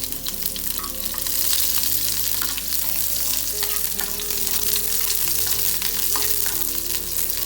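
Onion frying in hot oil with mustard seeds for chutney, a steady loud sizzle with the clatter of stirring throughout and no talking.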